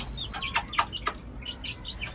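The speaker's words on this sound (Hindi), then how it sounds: "ये 5-6 मुर्गियाँ सिर्फ एक्टिव थी जो भाग के आ गई हैं दाना खाने" A small flock of chickens hurrying in to feed on scattered grain, giving repeated close clucks and short chirping calls in an irregular, busy rhythm with no talking.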